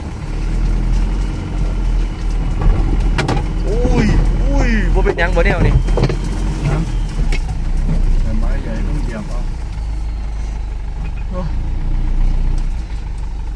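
A Toyota Hero 15BT small tractor engine runs steadily at idle outdoors, a continuous low rumble throughout, with people talking and calling out over it.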